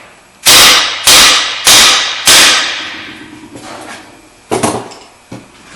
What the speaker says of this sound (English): you hit this right here, a couple of really sharp raps with the hammer, and it'll pop down